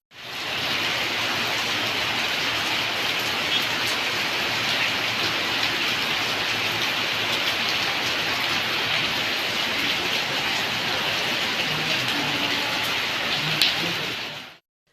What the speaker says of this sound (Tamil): உதகையில் ஒரு மணி நேரத்திற்கு மேலாக கனமழை பெய்தது